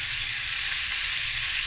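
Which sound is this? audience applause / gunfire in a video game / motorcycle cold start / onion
onion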